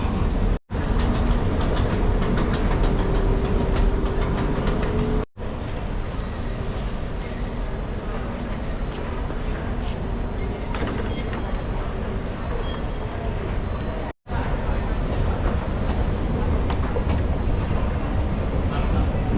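A Sydney Metro train riding the rails near North Sydney, with a continuous rumbling carriage roar and rail noise that stays loud and steady, broken by a few brief sharp dropouts.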